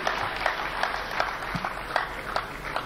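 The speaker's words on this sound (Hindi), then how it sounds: "जोरदार सम्मान में तालियां बजाइएगा गिरी साहब के लिए" Applause from a live audience at a Hindi comic poetry gathering, faint and steady with scattered clap peaks running the full length, heard from a distance with low room rumble underneath.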